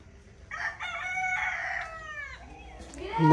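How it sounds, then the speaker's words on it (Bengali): A rooster crows once in the early morning at a village home, a fairly close, drawn-out call followed by faint background noise and brief movement. "ন্যাচারাল মোরগের আওয়াজ"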